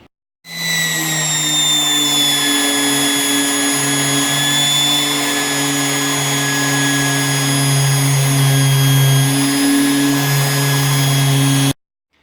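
A loud, steady mechanical whine from a power sander on a car body panel runs continuously, its high-pitched hum holding constant from start to finish with no talking.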